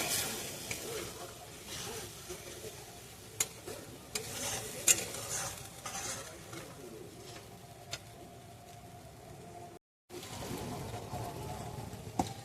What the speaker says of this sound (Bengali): এরপর এর মধ্যে দিয়ে দেবো কাজু ও পোস্ত বাটাটা। এটা একটু নেড়ে চেড়ে কষিয়ে নেবো।